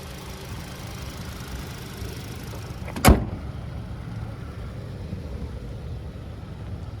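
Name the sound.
Hyundai Tucson 2.5 liter Smartstream 4-cylinder engine idling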